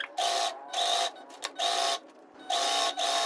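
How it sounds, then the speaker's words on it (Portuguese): Sewing machine stitching a seam in fabric with half a presser foot's width, close and fairly quiet, in several short bursts of whirring stitches with brief stops between. "fiz a minha primeira costura aqui com meio pé de máquina"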